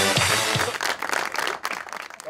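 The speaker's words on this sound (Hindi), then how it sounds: "तो इस पर भी तालियां वाकई बनती हैं" Studio audience applause at a televised talk show, dense and loud, breaking out briefly and filling the moment on its own.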